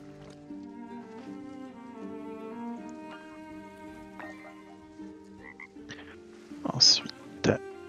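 Frogs croaking in the survival video game Wildmender, repeated tonal croaks over an ambient musical hum, with a few louder bursting calls near the end.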